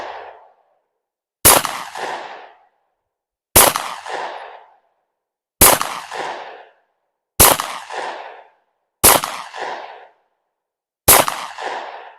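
A Springfield XD 9mm pistol fires six loud, evenly spaced shots outdoors, each sharp crack followed by a short echoing decay and silence before the next.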